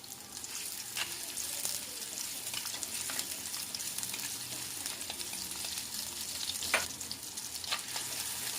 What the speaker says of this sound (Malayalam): ഈ അരിഞ്ഞു വെച്ചിരിക്കുന്ന ഉള്ളിയും കറിവേപ്പിലയും ചേർത്ത് ഒന്ന് മൂപ്പിച്ചെടുക്കാം